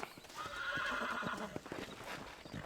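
A horse neighs and whinnies in Red Dead Redemption, a drawn-out call with hoof clip-clops beneath it, set against the murmur of a crowd in a frontier town.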